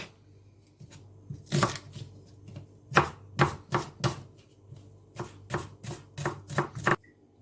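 A knife dices a shallot on a cutting board, giving a series of crisp, close taps in an uneven rhythm with a low hum underneath.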